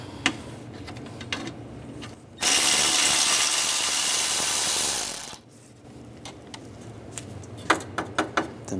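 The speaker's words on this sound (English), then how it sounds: "Use a 10mm socket. Get behind there. Take those bolts out." Bolts are loosened from the alternator bracket of a 2006-2009 Mercedes-Benz E350 with a 10mm socket. Scattered metallic clicks come first, then a loud, continuous whirring burst of about three seconds, then more clicks and short ratcheting taps.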